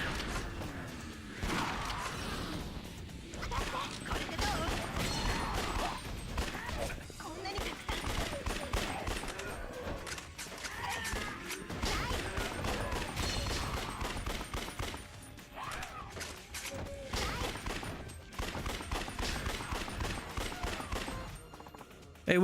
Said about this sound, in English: gun combat here is probably better than it was in DMC2